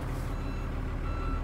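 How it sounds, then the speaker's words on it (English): Steady rumble of a 1999 Ford Iveco 7.5-tonne truck engine idling nearby, with a faint, high reversing alarm beeping beneath it. "There's the audible reversing alarm."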